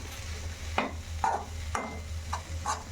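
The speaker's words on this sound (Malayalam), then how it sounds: "മുതിരയും പച്ചക്കായും കൂടെ വേവിച്ച് വെച്ചത് ഇതിലേക്ക് ആഡ് ചെയ്ത് കൊടുക്കുക എന്നിട്ട് നന്നായിട്ട് ഇളക്കി കൊടുക്കാം" Cooked horse gram and raw plantain stirred in a pan, with several spaced scraping strokes of a spoon over a low background hum and faint sizzle, and no talking.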